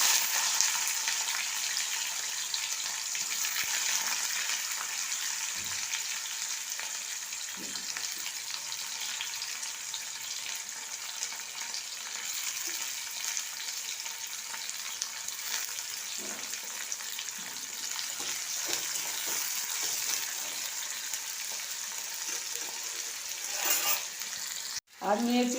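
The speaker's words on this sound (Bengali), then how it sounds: "তেলেতে দুটো পেঁয়াজ দিয়ে দিলাম।" Onions sizzle steadily in hot oil in a kadai, a constant bright crackling hiss that holds at moderate level throughout, with a few soft utensil knocks near the end.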